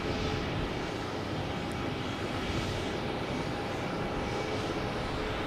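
A United Airlines Boeing 737 MAX 8 arriving from Newark at Boston Logan Airport, heard as a steady, broad jet roar that holds at a constant moderate level throughout, with no voices.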